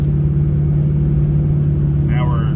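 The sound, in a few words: Ford 6.0 Powerstroke diesel engine, RPM dropping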